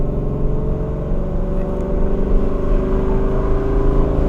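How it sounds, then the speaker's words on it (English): A Ford Mustang GT 5.0 cruising at low RPM gives a steady, deep exhaust rumble with a constant drone and no sharp revving, heard from inside the car. "Just puts a smile on my face just listening to the exhaust tone."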